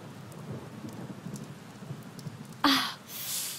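Steady rain patters throughout a film scene, then a loud thunderclap bursts in near the end, followed by a rising rumble of rain and thunder; no talking.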